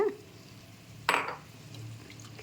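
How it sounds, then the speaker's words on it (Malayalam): Water poured into a pan of already-fried chicken while cooking chicken curry gives one brief, bright splashing sizzle that fades quickly into a low steady hum; no one speaks. "ഇനി നമുക്കിതിനകത്തേക്ക് ഈ ഒരു വെള്ളം ഒഴിച്ചു കൊടുക്കണം"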